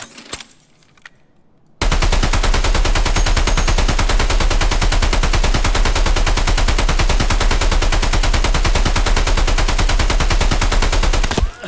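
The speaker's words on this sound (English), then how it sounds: "Oh, that's a machine gun here. I just realized we could actually man this in case somebody's out there." Mounted machine gun in the shooter game Escape from Tarkov fires one long sustained burst of rapid, evenly spaced loud shots after a brief quiet start, with no talk over it.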